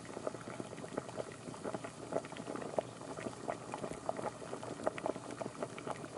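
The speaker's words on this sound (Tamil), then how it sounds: "இப்போ நல்லா தண்ணி வந்து நல்லா சூடாயிருச்சு" Water heats on a stove toward a boil for rice flour dough. Soft, irregular bubbling and popping keep up a steady, quiet simmer for about six seconds, with nothing else heard.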